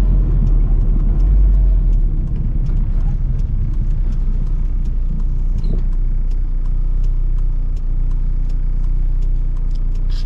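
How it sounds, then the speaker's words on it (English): A small, pleasant-driving car on 12-inch wheels pulls away hard, its engine a loud, steady low rumble close to the microphone for about ten seconds, with no talking. "Just to give it a spirited pull away here and see how we get on."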